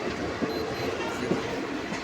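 A passing train makes a dense, steady rumble and rush with a couple of faint clacks, loud and filling the whole short moment.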